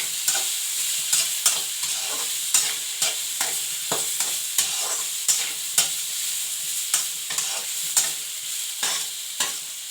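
Spices for a ghee chicken gravy are stirred and tossed in a dry pan while roasting, with a steady scraping rhythm of regular strokes over a faint sizzle, no voices.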